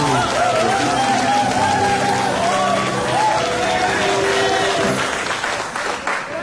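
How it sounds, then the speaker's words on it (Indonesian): Audience applause at an Indonesian comedy talk show, dense sustained clapping that fills the room and stays loud before tapering off near the end, with voices mixed into the din. "Tepuk tangan."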